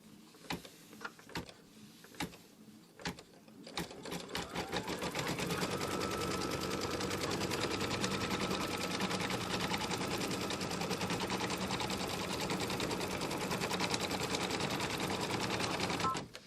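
Embroidery machine tacking down fabric, opening with a few separate clicks before settling into a long, steady, rapid stitching clatter at close range.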